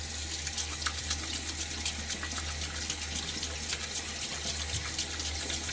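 Tap water runs steadily from a bathroom faucet into a sink while a face is rinsed after a shave with Gillette Nacet blade and honey mango shave cream, a continuous close hiss with no talking.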